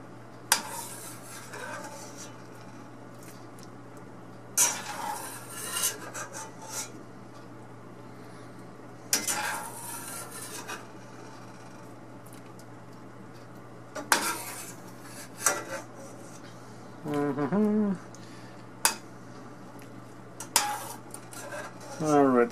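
A metal utensil scrapes and clanks against a pot while food is scooped out, giving scattered knocks and rattles between quiet stretches over a low steady hum, with a voice speaking briefly at times.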